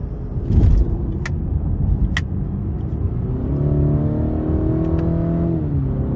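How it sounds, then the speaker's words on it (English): A 2023 Cadillac CT5 Premium Luxury pulls away with a steady engine drone that rises in pitch, then eases as it shifts up, heard from inside the cabin with a couple of faint clicks and no talking. "I just love how quickly this shifts, specifically with the paddle shifters."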